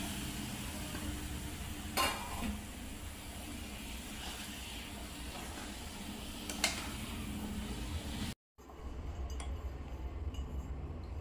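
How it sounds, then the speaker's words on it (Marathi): Melted jaggery with poppy seeds added cooks in a pan for modak filling, giving a steady low sizzle with occasional clinks of a spoon against the pan, close and continuous, with a brief dropout near the end. "तिने गुळ टाकला, आता गुळ वितळले, गुळ चांगला एकजीव झाला की ही खसखस टाकून द्यायची त्याच्यामध्ये।"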